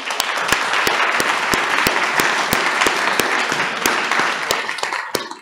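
A room of people applauding a guest at a small community talk, continuous clapping with a few sharp individual claps standing out, steady from start to finish.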